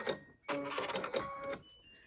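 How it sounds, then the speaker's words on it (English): A sewing machine plays a short electronic chime melody when it finishes, a few bright tones over soft mechanical whirring, moderately quiet and close. "that is my very happy sewing machine telling me it's happily done"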